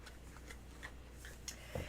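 Tarot cards are shuffled in a few light, quick riffles and soft ticking flicks, faint and close, ending with a small tap.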